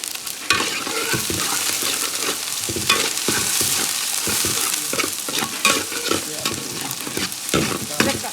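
Curry leaves and chili and pepper powders sauté in hot oil for a coconut-ground fish curry, a steady bright sizzle broken by frequent scraping stirs, close and continuous, with no talking.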